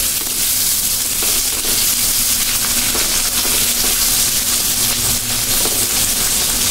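Onions frying in a pan, with a dense, loud, steady sizzle and crackle that runs unbroken from start to finish.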